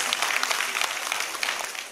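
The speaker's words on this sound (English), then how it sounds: "Give her a big round of applause, everyone" A festival show audience claps to welcome a young singer onto the stage, a brief burst of dense, even applause heard fairly close.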